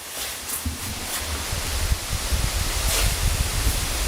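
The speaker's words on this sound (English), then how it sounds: "Man, it's windy out there." Wind blowing hard outdoors in stormy weather, a steady broad roar with gusty buffeting rumbles against the microphone, rising slightly over the few seconds, no voices.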